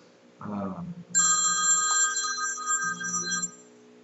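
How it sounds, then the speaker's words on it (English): A telephone rings loudly and steadily for about two seconds with a bright, sustained electronic bell tone. It follows a short low voice and fades to quiet near the end. "There's the phone ringing"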